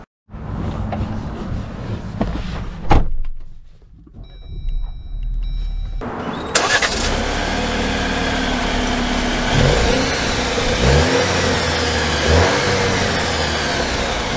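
A 2024 Jeep Wrangler Rubicon X engine starts up, then revs and accelerates steadily while driving, a loud continuous mid-pitched drone that lasts throughout with no talk.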